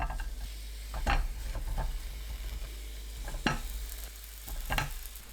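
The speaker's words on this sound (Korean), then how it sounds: "팬에 머리와 내장 손질한 국물용 멸치 한 줌 넣고 센 불로 1분 볶습니다" Cleaned anchovies stir-fried in a pan over high heat give a low, quiet sizzle with a few sharp spatula scrapes spaced a second or two apart, close by and without any voices.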